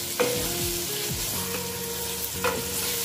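Buldak cheese ramen being stirred and fried in a pan, giving a steady close sizzle with utensil scrapes and a few sharp clinks against the pan, no voices.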